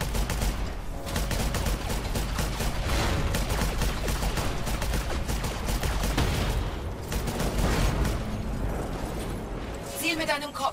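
Rapid gunfire in a VR alien-invasion shooter, Scavengers Odyssey on PS4 Pro, as shots hit consoles: a dense, continuous stream of loud, close bursts with a voice talking over them.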